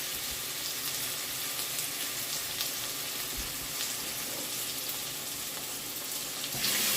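Seasoned chicken pieces frying in hot oil for chicken pilau: a dense, steady hiss of sizzling fat that fills the whole stretch, close and fairly loud, with no talking.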